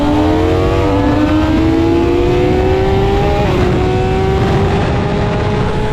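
BMW S1000 RR inline-four motorcycle engine pulling steadily while riding, a loud, smooth, continuous high-pitched drone with rising pitch and a brief shift midway.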